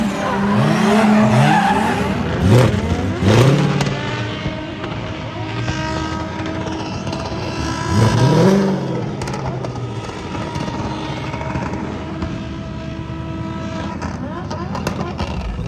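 A supercharged V8 Corvette drifts on a race track, with long wavering tire squeals and engine roar rising and falling, loud at moments and then settling into a steady drone, while people talk over it.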